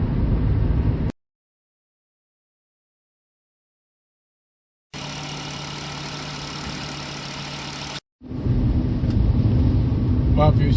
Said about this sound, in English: That's the car running.